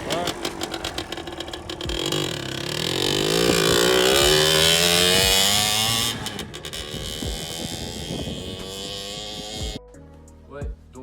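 A motorcycle engine revs up, holds a loud steady whine, then settles back toward idle, with a voice briefly speaking near the end.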